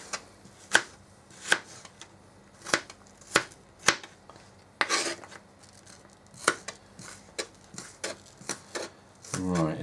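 A knife chops onions on a wooden chopping board, each stroke a sharp, close knock coming at an uneven, unhurried pace, about a dozen in all, with a voice briefly speaking amid the cuts.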